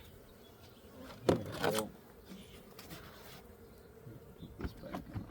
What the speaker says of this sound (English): I'll brush these bees off here